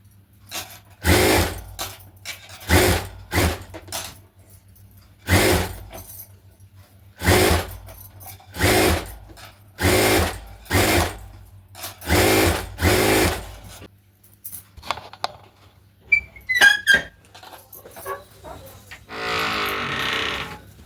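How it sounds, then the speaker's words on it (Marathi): A sewing machine stitches a blouse in bursts, running in short loud runs of a second or so separated by pauses, about a dozen times, with a brief metallic jingle and rustle near the end. "अजून एक टीप मारून घ्यायची डबल."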